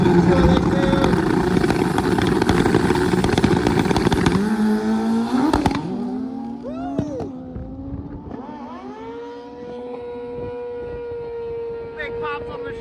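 A nitrous-fed drag racing motorcycle screams at full throttle with sharp pops on each gear shift, then fades into a sustained distant whine as it runs off down the strip.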